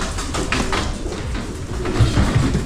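Breeder birds cooing in soft, repeated murmurs over a dense, steady background of rustling and low noise, moderately close, with a few louder coos near the end.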